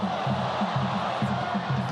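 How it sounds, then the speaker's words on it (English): A football crowd at an Al Nassr match swells with excitement in a dense, continuous roar of voices carrying distant chanting and rhythmic shouts. "Crowd got excited"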